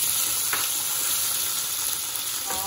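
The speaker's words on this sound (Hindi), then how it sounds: "आलू गल चुके हैं, अब इसमें टमाटर ऐड करूंगी" Tomatoes go into potatoes already softened in a pan for sabudana khichdi, bringing a steady, close, loud sizzle and frying hiss with faint stirring clicks, no voices.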